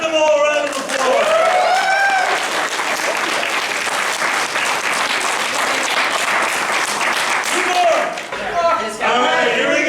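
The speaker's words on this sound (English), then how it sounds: "give them all a round of applause" Comedy-club audience at an improv show breaking into loud, sustained applause and cheering, a thick wall of clapping from a full crowd, with a host's voice heard briefly at the start and again at the end.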